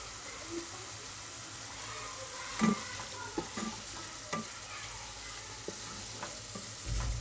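Chicken with ground coriander, cumin and garam masala is stirred in a pan for a bottle gourd curry, a low, quiet sizzle with scattered spoon scrapes and knocks against the pan.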